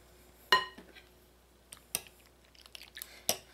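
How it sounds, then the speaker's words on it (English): A Danish dough hook working flour into wet ingredients for Trini coconut turnovers gives a few sharp scraping clicks and knocks against the bowl, spaced irregularly with quiet gaps between. "I'm using my Danish dough hook to mix this"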